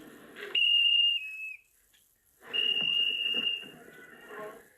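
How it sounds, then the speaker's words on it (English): A shrill whistle signalling feeding time at a wildlife park sounds twice in long steady blasts, separated by a short pause, loud and clear over faint background noise. "This whistle is used to indicate that it's feeding time."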